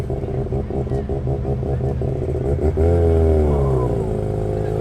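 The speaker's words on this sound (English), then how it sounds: "That would be an RX-7 for sure." A Mazda RX-7's rotary engine burbles with a choppy, rhythmic idle, then revs up into a smooth rising drone, close by and fairly loud.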